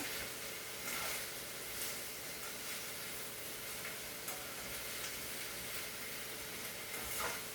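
Plantain frying in a pan for a West African Liberian meal, a steady soft sizzle with faint crackles throughout.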